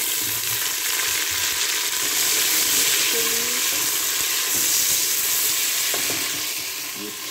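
Browning onions fry in a pan as tomatoes go in for a chicken dish, a loud, steady sizzle with scraping stirs and small bubbling pops close by, and no talk.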